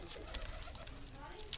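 Pigeons cooing softly nearby in a low, rolling murmur, with a brief bright chirp near the start and end, quiet and steady with no talking.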